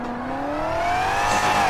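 Dodge Hellcat in the FiveM driving game, its engine revving and climbing steadily in pitch as the car accelerates, loud and close with a faint tire squeal, no talking.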